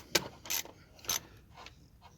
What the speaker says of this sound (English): I'm just going to nip these up, you know, using a ratchet this sort of size, just give them a nice nip